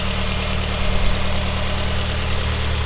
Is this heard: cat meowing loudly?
no